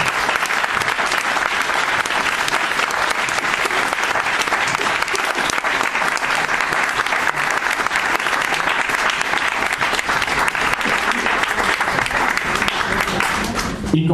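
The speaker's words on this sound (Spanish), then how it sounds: "un aplauso para nuestro ponente" Sustained, dense audience applause at a Madrid talk and Q&A session, steady and loud throughout with no pauses, the many hands blending into a continuous wash of clapping.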